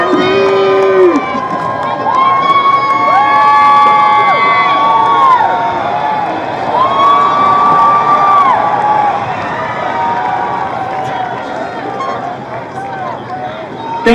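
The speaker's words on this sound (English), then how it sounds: "Please clap." A crowd at a 2016 high school commencement roars and cheers loudly and steadily for about fourteen seconds, with sustained horn-like tones rising above the noise. Distinct clapping is hard to pick out.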